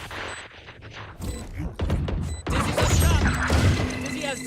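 Rapid gunfire bursts and impacts from the tactical shooter game Valorant, sharp repeated cracks over clicking mechanisms, with a voice talking faintly underneath.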